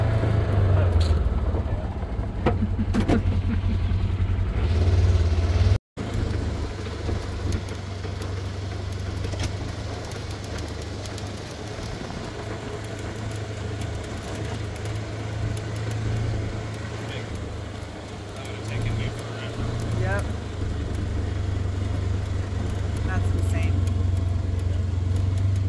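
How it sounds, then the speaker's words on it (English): Four-wheeler ATV engines run continuously for the whole stretch, a steady low idling drone that stays near and loud, with a brief cut partway through and some talk in the background. "the kids got the four-wheelers going, so we're gonna head out"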